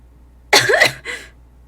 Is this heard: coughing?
yes